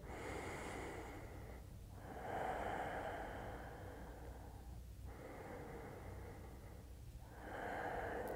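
Slow, deep nasal breaths in a gentle yoga flow. Three or four soft, airy inhales and exhales follow one another in an unhurried rhythm, close and quiet, with no talking.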